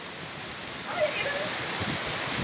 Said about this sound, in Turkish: Ya ben böyle müthiş bir yağmur gördüm.